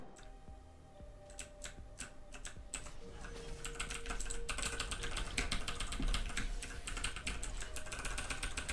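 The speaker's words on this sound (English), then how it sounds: "Hit the keyboard." Typing on a computer keyboard during a World of Warcraft game session, a quick rapid run of close key clicks that starts sparse, then gets denser and louder.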